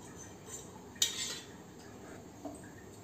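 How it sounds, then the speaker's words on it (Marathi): A kadhai set down on a gas stove, one sharp metallic clank at about one second over a quiet, steady hiss, with a fainter knock a little later. "आता आपण याच्यावरती एक कढई ठेवायची आहे"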